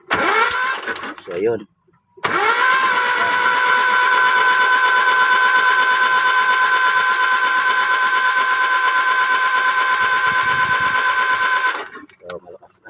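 A small engine starts after a contact point replacement and then runs steadily and loudly at a high idle for about ten seconds before cutting off. A brief sputtering start attempt comes first, with a short spoken remark.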